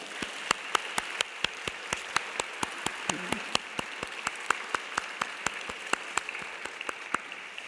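Applause from wedding guests after the couple is pronounced married at a church ceremony, heard as a steady run of sharp, separate claps, fairly distant and sparse, filling the room with no talk over it.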